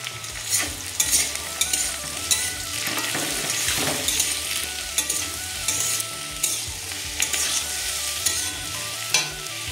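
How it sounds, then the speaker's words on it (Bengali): Cauliflower and potato frying in oil with chopped green chilli and onion, a loud continuous sizzle broken by repeated scraping stir strokes at a brisk, uneven rhythm, close up with no talk. "এখন এই ফুলকপি আলু ভাজার মধ্যে আমি দিয়ে দিচ্ছি কাঁচা লঙ্কা কুচি আর পেঁয়াজ কুচি।"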